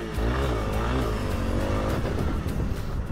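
Dirt bike engine accelerates hard, a raspy revving roar that climbs and holds close and loud throughout, no talk over it. The bike is either a Honda CRF300L or a Kawasaki KLX300, ridden off-road past braking bumps.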